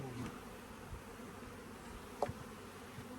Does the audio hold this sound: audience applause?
no